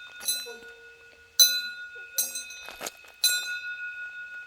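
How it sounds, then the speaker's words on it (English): A bear bell on a hiking trail in Japan rings in a few bright, separate jingles, each fading quickly, with a faint steady tone in the background. "Oh, there's a bell, a bear bell."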